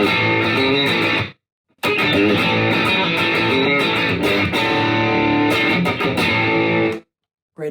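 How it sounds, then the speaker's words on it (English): An electric guitar plays through a HandleBox overdrive distortion pedal, giving thick, saturated chords that ring loud and full, with a short gap of silence near the start and a cutoff at the end. "Going on to the distortion side"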